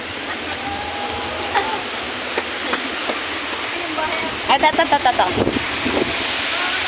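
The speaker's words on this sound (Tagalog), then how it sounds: "Ito yung labasan ng tubig." Water rushes steadily from the outlet of Wawa Dam, a continuous roaring wash like a waterfall, with wind buffeting the microphone and someone speaking briefly over it.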